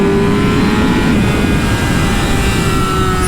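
A 2018 Yamaha YZF-R6 sport bike engine drones at high, steady revs on a race track, a loud continuous roar with a fixed engine tone held throughout and no voices.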